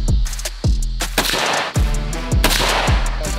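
A gun fired repeatedly at a target outdoors, about eight loud, sharp nearby shots in an uneven rhythm, each with a short echoing tail.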